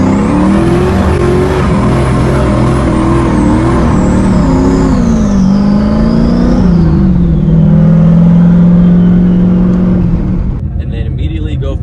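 Manual car doing a burnout: the engine revs high and loud, holds a steady roar, then drops to a lower sustained drone with tire and drivetrain noise, continuous and close throughout.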